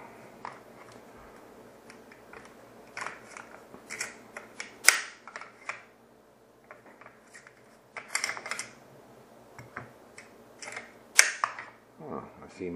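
An Aero Precision nickel boron bolt carrier group being taken apart as a pin is popped out, heard as scattered sharp metallic clicks and snaps spread across the clip, quiet between bursts, with no talk.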